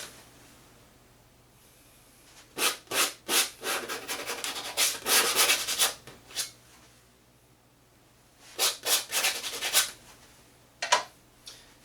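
Palette knife scraping a light coat of violet paint onto canvas for a sunset landscape, heard as close rasping strokes in two bursts of repeated scrapes separated by a quiet pause.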